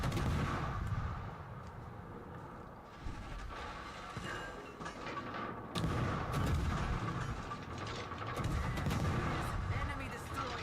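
Shore battery guns fire in World of Warships: Legends, heavy booming blasts and rumbling reports repeating over a dense battle din, with someone talking quietly in between.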